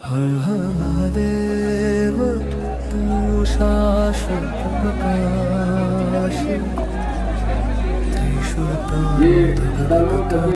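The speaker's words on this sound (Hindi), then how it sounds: "सारी वीआईपी गेट के बाहर भीड़ है।" Crowd gathered outside the VIP gate at Kedarnath Dham, a loud steady murmur of many voices with some clear speech and shouting mixed in, close and continuous.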